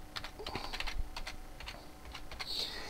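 Quiet, close clicking of a computer keyboard as a console command is typed into Fallout 4, several irregular keystrokes spaced out, with no voices.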